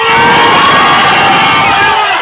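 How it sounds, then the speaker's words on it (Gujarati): A large crowd at a tea agency opening with a comedy show cheers and shouts loudly and continuously, with a dense wall of voices; individual claps are not distinct. "પ્રકાશભાઈને ફૂલ સપોર્ટ કરજો તાળીઓ પાડો"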